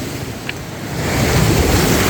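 A big sea wave breaks on the shore along a Welsh coastal path between Gilfach and New Quay, its rushing surge swelling louder over the final second amid gusty wind noise.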